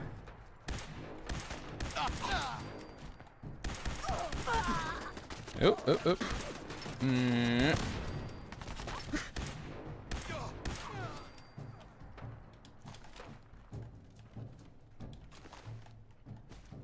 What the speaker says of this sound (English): Now I've stop hearing laser blasts everywhere.